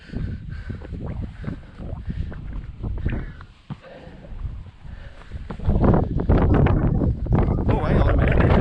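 Strong wind gusting across a hilltop in the Preseli Hills, with heavy buffeting rumble on the microphone that grows louder toward the end, and a person speaking briefly over it.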